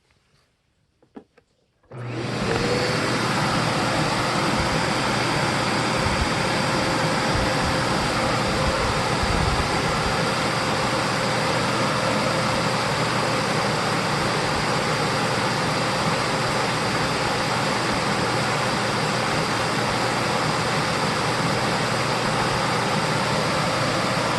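After a couple of soft clicks, a Bosch vacuum cleaner switches on and roars steadily at close range, its exhaust air blowing toward the microphone in a constant loud whoosh.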